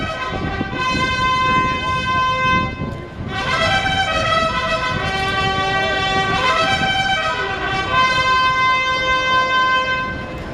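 A bugle call from Sam the Bugler at a horse racetrack, played as long sustained brassy notes in a steady fanfare, loud and clear over crowd murmur for about ten seconds.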